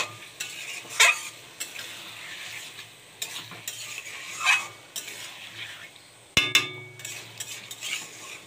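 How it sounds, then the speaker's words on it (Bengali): Bombay duck fish cooking in a thick spice paste, with steady sizzling under repeated scraping stirs of a spoon against the pan and a sharp metallic clank near the end. "দেখুন, মশলাটার মধ্যে লোটে মাছগুলো ঢেলে দিয়েছি।"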